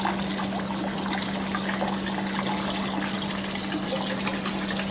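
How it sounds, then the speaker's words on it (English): Water drips and trickles steadily from an aquaponics grow bed into a fish tank below, a continuous soft patter with a constant low hum underneath. "Water just dripping from the grow bed."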